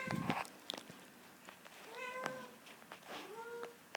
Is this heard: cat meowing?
yes